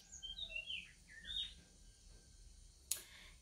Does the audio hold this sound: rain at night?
no